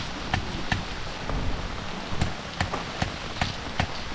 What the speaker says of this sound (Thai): นั่งไฟปึ๊บฝนตกเลย